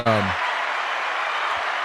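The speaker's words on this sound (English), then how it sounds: "round of applause, though, for real for them" Steady crowd applause and cheering fills the whole stretch, a dense wash of clapping after a brief low vocal burst at the start.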